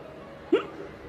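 A single short hiccup-like vocal catch, imitated by a voice during a spoken religious discourse, sitting over a steady background hum.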